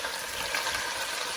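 Lamb shank searing on medium-high heat in a pan, a steady close sizzle that runs without a break through the short moment, with no voices.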